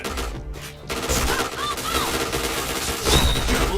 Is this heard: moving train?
no